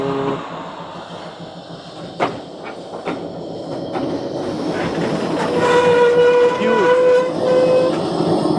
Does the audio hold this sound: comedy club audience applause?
no